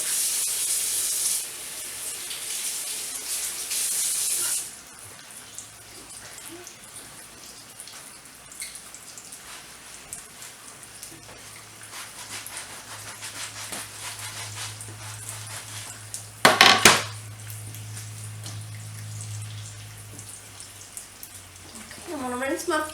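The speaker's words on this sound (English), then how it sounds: "I'm going to rinse my potatoes off" Tap water runs in a home kitchen as potatoes are rinsed for corn chowder, with a strong splashing burst at the start, a quieter stretch, and another short gush later.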